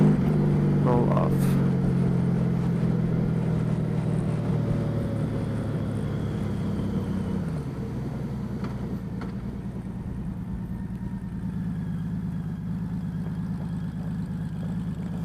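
A Honda Valkyrie motorcycle engine rumbles steadily while the throttle is rolled on and then eased off, with the low drone dropping and settling midway through a continuous, fairly loud run with background noise.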